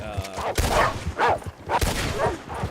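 Coyotes in a video game let out a rapid string of yips, barks and short howls, several sharp bursts in quick succession, fairly close and loud.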